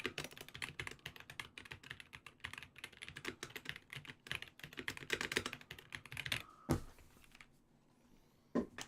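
Rapid, dense typing on a stock mechanical keyboard fitted with Boba U4 silent tactile switches, close and continuous with uneven clacks, then a pause and a couple of isolated louder knocks.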